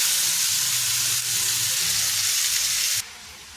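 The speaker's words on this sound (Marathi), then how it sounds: "दुसरं पण चिकन आपलं जे आहे दुसरी बॅच ती पण आपण फ्राय करून घेऊयात" Steady loud sizzling of a second batch of chicken pieces frying in a pan for butter chicken, a constant hiss with faint stirring, dropping off sharply near the end.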